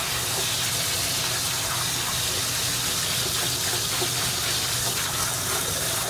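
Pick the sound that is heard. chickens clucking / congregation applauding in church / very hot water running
very hot water running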